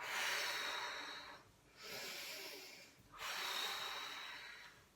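Slow deep belly breaths during a guided anger-release exercise, each long airy exhale pushed out through the mouth; three close, steady breaths in a row with short quiet gaps between them, no talking.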